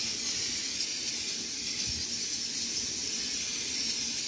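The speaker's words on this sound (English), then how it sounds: "First thing you want to do with an air fryer, you want to spray with some mist." Cooking oil mist sprayed into an air fryer gives a steady, soft hiss that runs close and unbroken for several seconds, with no talking.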